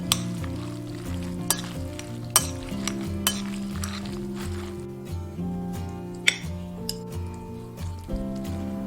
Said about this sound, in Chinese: 然后用筷子给它翻拌均匀